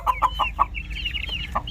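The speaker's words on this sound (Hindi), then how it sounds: "ये सील मुर्गी और उसके बच्चे हैं, ये प्योर ब्रीड है" A hen clucks in short, rhythmic bursts close by, with thin, high peeping from chicks running underneath and between the clucks.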